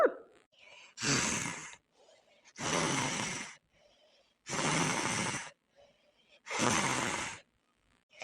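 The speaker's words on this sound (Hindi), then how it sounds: "बहन के खर्राटा लागत बा खर्राटा" Four loud, rasping snores come in a slow, even rhythm, each lasting about a second, with quiet breathing in the gaps.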